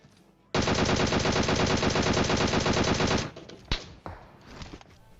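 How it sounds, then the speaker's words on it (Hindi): Kar98k rifle fire in the mobile battle game PUBG Mobile, a loud dense burst of rapid gunfire lasting nearly three seconds, followed by a couple of sharper single shots and fading echoes. "मेरे कान के बगल से गोली जाती है, वो भी कार 98 की गोली"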